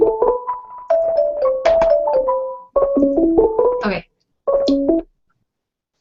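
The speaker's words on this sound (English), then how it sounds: "Sorry, my computer's ringing somewhere." A computer rings during a video conference, with a run of stepped, melodic electronic tones that pause briefly and then return for a short final burst. Someone says a single word.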